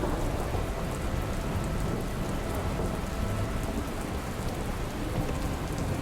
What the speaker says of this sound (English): Moving so slowly as a result of heavy rain in the hills.